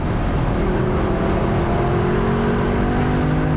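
A Lexus LC500 Convertible's naturally aspirated engine drones loud and close, a rich, steady, slightly climbing engine note held throughout with no pauses.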